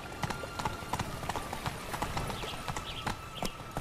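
Horse hooves clip-clop at a steady trotting rhythm in The Witcher 3, a run of close, crisp strikes on hard ground with faint ambient sound behind them.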